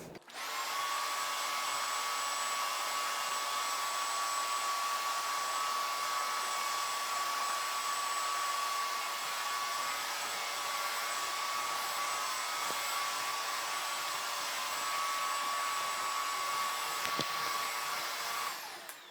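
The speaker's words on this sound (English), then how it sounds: "So let's go over it with the Bissell Crosswave and see if we can just get it up using that." A Bissell Crosswave Pet Pro wet-dry vacuum runs over tile grout picking up coffee grounds, a steady loud whining motor drone with a high tone, switching on and off at the ends, no speech.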